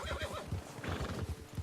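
A horse in Red Dead Redemption 2 whinnies and snorts close by, with hooves clip-clopping in a quick rhythm underneath.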